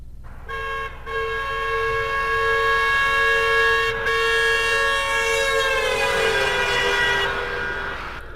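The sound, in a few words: passing car horn with Doppler effect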